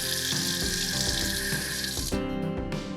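Water runs from a tap into a cup in a luxury London kitchen with light grey and midnight blue Pronorm units, a steady hiss and splash that holds throughout and shifts tone partway as the flow changes.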